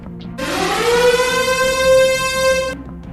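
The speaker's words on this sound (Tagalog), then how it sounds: "Biglang may narinig kang malakas na sirena." A loud emergency siren sounds in a staged pre-dawn alert scenario, rising quickly into one steady, piercing tone that holds for about two seconds before cutting off, close and alone.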